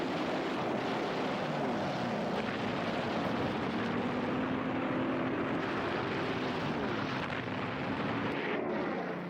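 Droning World War II carrier aircraft engines roar steadily at Midway, a dense continuous rumble without talk.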